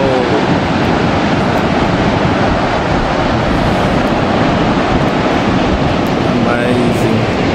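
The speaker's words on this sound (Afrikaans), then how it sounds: "jy hoor die water heeltyd rammel" Steady roar of rushing water at Augrabies Falls waterfall, a dense continuous wash of noise that holds loud and unbroken from start to end, with no voices over it.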